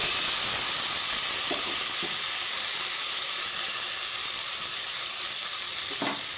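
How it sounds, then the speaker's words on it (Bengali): Kidney beans (rajma) fry in hot oil in a pan, giving a steady, soft sizzling hiss throughout, broken by a few brief stirring clicks and no talking. "তো রাজমাগুলো আমি হালকা নেড়ে চেড়ে একটা সেন্ট বেরোয়া অবধি আমি ভেজে নেব"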